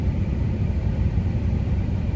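A steady low rumble of a truck engine idling with the air conditioning running on a hot day, a constant, dense drone close by with no speech over it.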